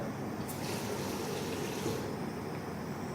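Water poured onto a hot soldered wire joint to cool it during construction of a dental space maintainer, a steady close gushing splash running continuously at even loudness, with a brief sharp hiss near the start.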